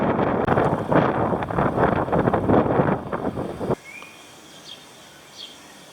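Strong wind buffets the microphone while cycling along a levee in the Netherlands, a loud, gusty roar for several seconds that drops suddenly, leaving faint background air and a few distant chirps.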